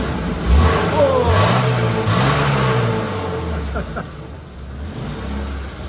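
A BMW engine revs and pulls away, a loud mid-pitched roar that climbs and dips over a few seconds before easing off toward the end, with people talking over it.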